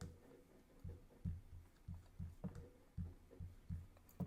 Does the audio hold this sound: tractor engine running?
no